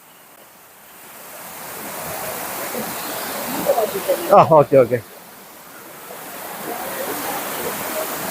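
The Meenmutty waterfall in Wayanad sends up a constant broad roar that builds gently. A brief exchange of voices breaks in midway, then the water's rush carries on alone.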